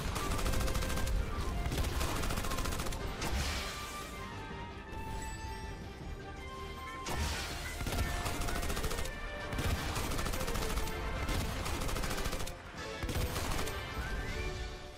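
Gunfire aimed at the player in a video game, dense bursts of loud shots and rapid automatic fire that stop and restart across the span, with a short quieter lull in the middle.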